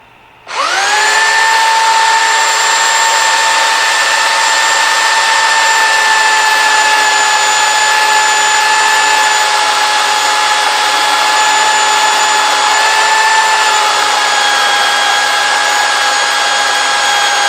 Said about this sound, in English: I'll use the sander so that way we don't mess up.